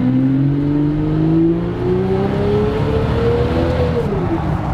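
BMW 7 Series V12 pulling hard up a motorway slip road, its smooth engine note rising steadily in pitch through a gear, loud and continuous from the cabin with no talk.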